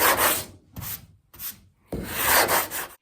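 Body filler being sanded on a Holden VG Hardtop under restoration, heard as three bursts of close, raspy rubbing strokes separated by short pauses, with the last burst the longest. No voices.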